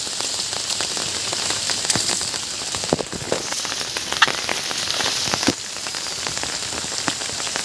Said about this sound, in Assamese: আজি যিহেতু বৰষুণৰ বতৰ গতিকে ছাতি লৈ চাহ গছৰ মাজে মাজে